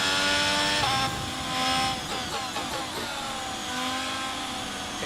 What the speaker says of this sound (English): Ooh, different car sound.